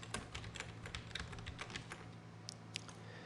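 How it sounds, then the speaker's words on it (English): Rapid, steady keystrokes on a computer keyboard as text is typed, close and crisp with a couple of sharper clicks near the end and no talking. "I'm going to type After Effects."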